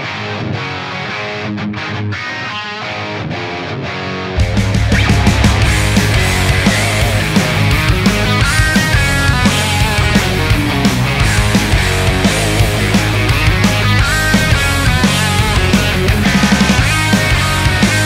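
Heavily distorted high-gain electric guitar riffs through a Friedman BE100 amp, thick and loud, kicking in after a quieter opening and driving on steadily to the end.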